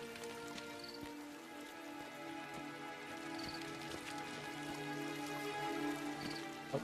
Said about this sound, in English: Rainy summer day. I love those.